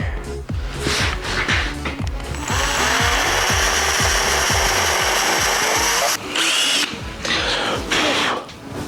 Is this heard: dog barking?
no